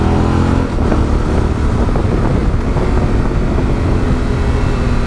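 A Yamaha Ténéré 700 motorcycle held in third gear on the mountain road from Chur to Arosa makes a steady, loud engine drone, largely buried under constant wind rush.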